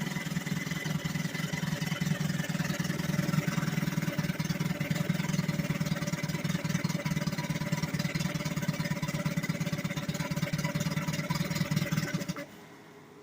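A 1957 Brooklure 12 hp outboard motor from Gale Products runs steadily in gear, a loud, even mid-pitched drone with a constant beat that holds for about twelve seconds, then cuts off abruptly.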